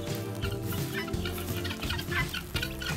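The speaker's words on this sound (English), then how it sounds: "See some of our guineas" Guinea fowl calling on a small farm, a busy overlapping chorus of harsh, rhythmic clucks and chatter from several birds at moderate distance, continuous throughout.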